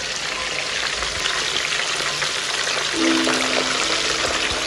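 Fish sizzles steadily in hot oil over a wood fire outdoors in winter, a constant loud crackling fry with a brief stirring or pouring sound partway through.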